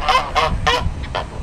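Four loud honking quacks from ducks at a lake in quick, uneven succession, close by, with no talking.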